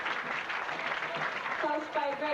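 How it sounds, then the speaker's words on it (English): Audience clapping at a 1994 high school basketball awards banquet honoring a Class B state champion team, a continuous patter of many hands with cheering voices rising toward the end. "How about a big round of applause for us?"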